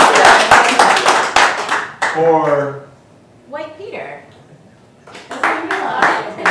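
An audience at a story-time show claps in short scattered bursts, the light patter of hands mixed in with a voice talking over it, fading out in the middle and then returning briefly near the end.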